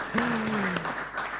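An audience at a book presentation in a national library claps for two wives, a brief dense patter of applause with a voice speaking briefly over it.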